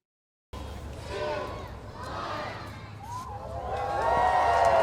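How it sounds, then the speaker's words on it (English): A big crowd gathered outside a governor's mansion for a Christmas tree lighting cheers and shouts, the noise swelling louder toward the end. "A big crowd led the countdown to the lighting of the Christmas tree."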